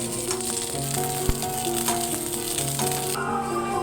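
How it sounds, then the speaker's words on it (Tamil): Brinjal pieces fry in oil, making a dense, continuous loud sizzle close by with faint rattles and stirring underneath, easing slightly near the end, no voices. "இப்போ கத்திரிக்காய் வந்து ப்ரௌன் கலரில் வர வரைக்கும் நம்ம வறுத்து எடுத்துக்கலாம்."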